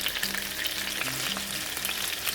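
Frozen chicken breast frying in a pan over medium heat, a loud continuous sizzle and crackle, steady throughout with no voices.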